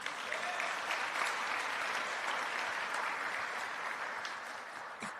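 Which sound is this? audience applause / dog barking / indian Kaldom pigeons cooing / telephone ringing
audience applause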